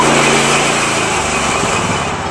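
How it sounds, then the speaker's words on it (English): Gasoline engine of a portable sawmill revving up after a cold start with the choke off, a loud steady high-pitched whine running continuously close by. "Okay, the blade revved up fine, everything's nice and smooth, now we're ready to cut."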